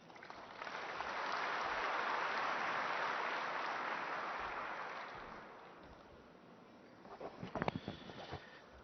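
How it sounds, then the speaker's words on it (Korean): Audience at a Korean trade association Trade Day event welcoming a speaker with applause, a swelling wash of clapping that builds, holds for several seconds and fades, followed by a few close handling noises. "박수로 맞아주시죠"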